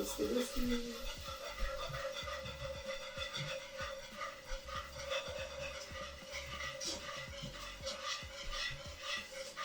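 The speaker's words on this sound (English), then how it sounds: "I'm about to take this one. Whisk it." A whisk scrapes and swirls rapidly in a pot as cornstarch is beaten into cheese sauce for mac and cheese, a close, continuous rubbing clatter with a low hum in the background.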